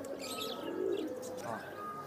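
Pigeons at a pigeon market in Khulna give soft, low cooing calls, fairly faint and continuous across the moment with a few higher chirps mixed in.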